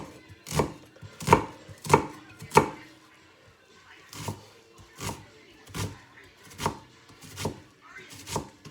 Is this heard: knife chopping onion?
yes